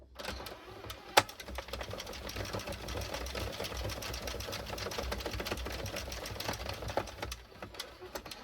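A hand-cranked knitting machine rattles as its carriage is turned around the ring of needles, making a continuous close mechanical clatter of rapid ticks and knocks with one sharper clack near the start.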